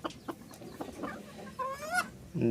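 Fancy poultry breeds such as Frizzle, Light Brahma, Columbian and Silkie cluck at a farm in Joypurhat, with several short, moderately close calls in a row and a louder burst near the end.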